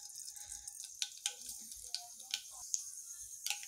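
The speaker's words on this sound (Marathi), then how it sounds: "आपली मोहरी आता तडतडलेली आहे" Mustard seeds crackle in hot oil as the tempering for a matki rassa, a scatter of sharp pops and ticks spread irregularly through a faint sizzle, with no talk.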